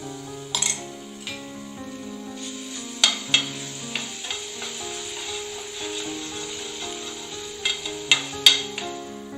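Crushed garlic cloves and a piece of ginger sizzle in lightly heated oil for an egg roast, a soft continuous frying hiss with occasional sharp clinks and scrapes of a stirring utensil against the pan, over faint background music.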